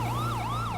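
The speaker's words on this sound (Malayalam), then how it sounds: "ഇതിപ്പോ സൈറൻ ഉണ്ടല്ലോ ഓൾറെഡി" A wailing emergency-vehicle siren in a video game rises and falls in a steady, fast cycle. It is loud and close over a low engine hum, with no voices.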